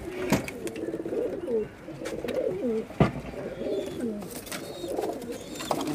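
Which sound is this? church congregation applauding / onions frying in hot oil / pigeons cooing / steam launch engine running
pigeons cooing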